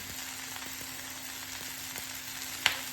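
Green tomatoes frying in a pan for chutney give a continuous bright sizzle with faint rhythmic ticking underneath and one sharp clink near the end, no voices.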